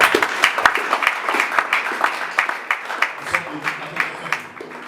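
A church congregation applauding, a run of distinct claps at a fairly quick uneven rhythm with voices mixed in underneath.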